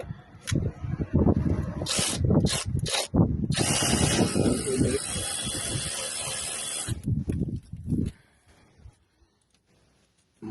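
Parkside PARP 20-Li A1 cordless ratchet wrench fitted with a 1.5 adapter bit, several short bursts followed by a long steady whirring run of about three seconds, close and loud, then a few brief bursts before it stops.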